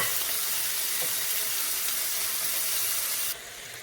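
Marinated lamb chops cook in a pan, giving a steady, even sizzle that holds close and constant throughout, with no talking, before it drops slightly quieter near the end.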